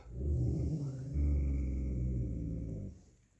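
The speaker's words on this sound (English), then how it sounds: "My dog's gonna start to bark." A dog growling at the mailman at home, two sustained low rumbling growls close to the microphone, the second longer, then quiet.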